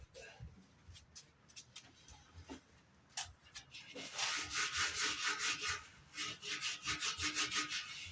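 Angle grinder fitted with a scrub pad stripping clear coat from a tank: after scattered scrapes and handling noises, a loud, steady abrasive rasp sets in and carries through, with short pauses, close to the mic.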